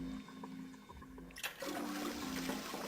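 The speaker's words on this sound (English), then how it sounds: "gotta go flush the toilet like 7 times" A toilet flushes in the video game 999, an old-fashioned toilet. After a quiet lead-in, a sudden rushing gush of water starts and continues as a steady swirling drain.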